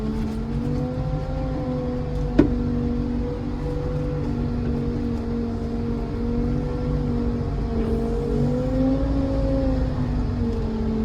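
A Case 321 compact wheel loader engine runs at a steady idle, a loud continuous droning hum with a slight rise and fall in pitch and one brief click, with no talking.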